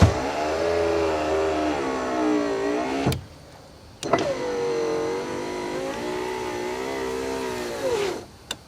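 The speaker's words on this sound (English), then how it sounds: "now it runs all the way up to the stop where it's supposed to be, and the motor sounds nice and quiet" A rebuilt power window motor in a 1995 Ford Crown Victoria runs twice with a smooth, quiet whirring hum. Each run lasts about three to four seconds and ends with a short pause and a click at the stop.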